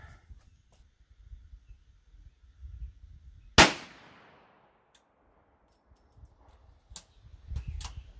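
A single sharp, loud blast from a .410 shotgun firing a slug rings out outdoors and decays into a brief echo. Quiet rustling and handling noises surround the shot.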